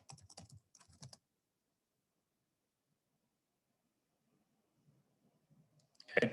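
Keys clatter on a computer keyboard as a password is entered, a quick burst of close clicks, then a long pause before a few more faint taps and another short flurry at the end.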